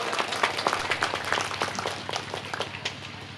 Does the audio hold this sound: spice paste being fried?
no